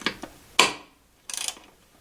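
A ratchet backs out a Torx head screw on a MerCruiser Alpha One sterndrive, giving a few short clicking bursts with brief pauses between them, close and alone.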